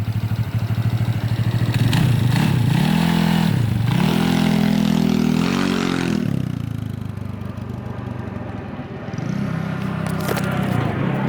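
A small scooter engine, a 228cc Taida or 70cc 2fast on a ride, revs up and down repeatedly, buzzing loudly, then briefly eases off before revving again close by.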